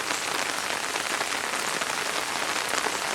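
Steady rain from Hurricane Joaquin falls on a nearby surface, a dense, even hiss of many drops with no letup, no voices and no other sounds.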